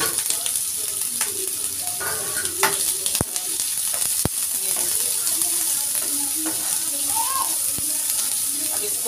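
Onions and green chillies frying in hot oil in a pan over low gas, a steady close sizzle with scattered stirring clatter and a couple of sharp utensil knocks, with no talking.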